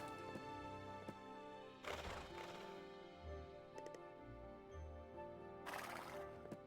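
A horse whinnies loudly a few times over a steady musical backdrop, with hoof clip-clops and soft taps between calls, in the video game My Time at Portia, clean.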